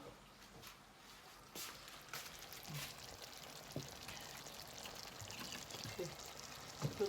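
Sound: milk being poured into a pot

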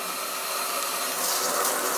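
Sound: Seoul Stone shower head spraying water

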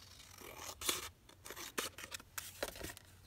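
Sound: scissors trimming fabric for a folio

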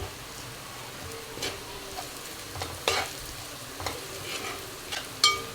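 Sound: stirring fried onions with garlic chilli powder in a pan

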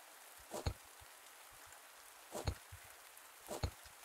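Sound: rain falling in a cave, from the video game Pumpkin Days

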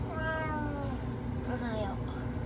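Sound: Japanese cat meowing

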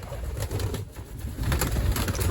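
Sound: pigeons cooing in a loft

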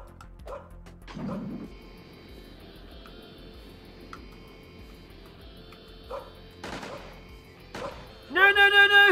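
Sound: dog barking in an indie video game

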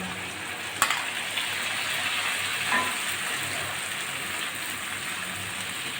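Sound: masala paste with black cumin, chili, ginger frying with potatoes

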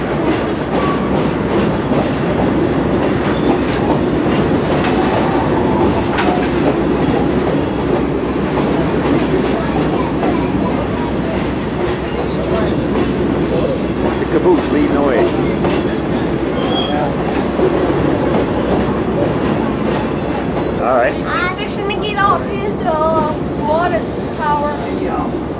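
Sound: train moving along the tracks, heard from aboard

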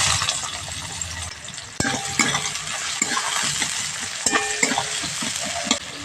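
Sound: chopped onion frying in oil

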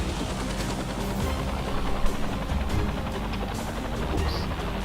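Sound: rescue helicopter in video game Dustoff Heli Rescue

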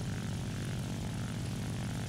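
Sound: propeller plane engine in War Thunder video game

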